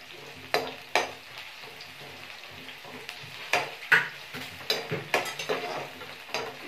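Dried red chillies fry in a pan in a home kitchen, a soft steady sizzle broken by a dozen or so sharp scrapes and clinks of a spoon stirring against the metal, close by with no talking.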